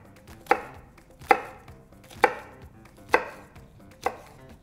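An onion is chopped straight down with a knife in five evenly spaced, crisp thuds on the board, close and clear against near silence.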